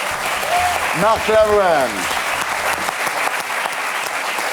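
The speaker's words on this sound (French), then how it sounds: "Et ça, on l'applaudit, bravo." A studio audience breaks into steady, full applause on a French television talk show, the clapping continuing throughout while someone briefly speaks over it near the start.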